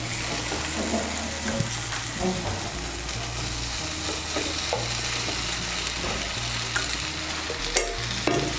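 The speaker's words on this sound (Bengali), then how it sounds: "আলু আর এঁচোড়টাকে মশলার সঙ্গে ভালো করে মিশিয়ে নেব।" Fried jackfruit and fried potato being mixed into cooked masala in a pan: a continuous sizzle with repeated scraping and knocking stirring strokes, close and fairly loud, without speech.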